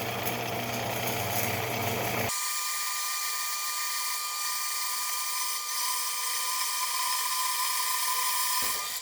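A sling-prone saw blade cuts through metal while making a telescopic camera pole, a steady high-pitched whine holding loud and continuous for several seconds after a rougher grinding start.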